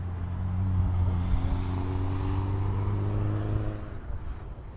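A Sunday Cup race car engine at Hallett racetrack, droning loudly with a steady pitch shift as it passes, then fading away.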